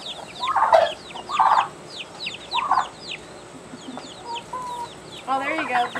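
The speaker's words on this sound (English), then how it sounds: "Chickens!" Chickens cluck in short, repeated bursts close by, mixed with chirping birds outdoors and a brief voice toward the end.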